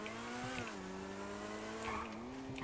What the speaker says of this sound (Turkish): Arabanın sesi mükemmelmiş bu arada.